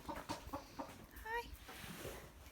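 Backyard chickens cluck softly in short, scattered bursts nearby, mixed with a person's quiet talking to them.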